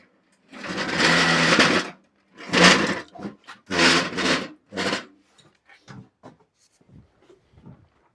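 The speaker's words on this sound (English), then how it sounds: "Now we could do a little bit of wet sanding." Hand wet sanding strokes on patches: a few long, loud rasping passes, then shorter bursts trailing off into faint, scattered scrubs.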